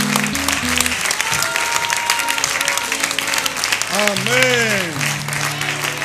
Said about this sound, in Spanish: Démosle un aplauso a él, mi hermano.